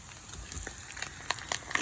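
Beyond Beef plant-based ground meat frying with onion in a hot pan, a soft steady sizzle with small crackles and pops growing busier toward the end, close and alone.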